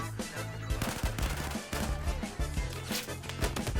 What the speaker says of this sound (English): Ah shit! I'm getting shot.